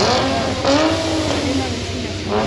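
A loud car engine revs hard nearby, the roar rising and falling in pitch over a constant din, with voices talking over it.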